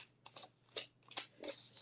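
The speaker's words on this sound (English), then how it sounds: "I'm shuffling." Tarot cards from a new Lost Souls deck being shuffled by hand, a series of soft papery riffles and slides in short bursts, close and fairly quiet with no talking.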